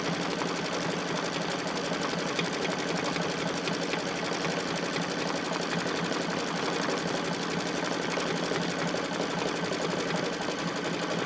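An embroidery machine stitches an in-the-hoop quilted appliqué placemat, a dense, fast, even whir and needle chatter that stays loud and unbroken throughout.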